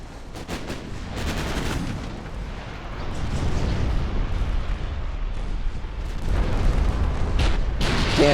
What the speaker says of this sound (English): Alright, you guys can start opening up with the torpedoes.